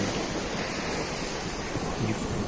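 Surf washing steadily onto a long, clean white-sand beach at Ban Nai Rai on the Thai coast, a continuous broadband wash of waves with some wind, moderately loud and unbroken, with no voices.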